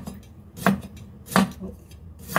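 A knife slices ginger for chicken feet in black bean sauce, producing three crisp, evenly spaced chops on a cutting board, close and distinct over a quiet background.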